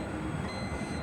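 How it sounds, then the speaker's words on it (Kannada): Train passing near a highway in thick fog, heard from a moving bus as a steady, dense rumble with no clear breaks. "ಟ್ರೈನ್ ಸೌಂಡ್ ಕೇಳಿಸ್ತಾ ಇರಬೇಕು"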